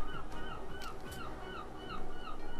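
A gull calls several times in the distance, a series of faint, repeated honking cries spaced across a steady background murmur, with no talking.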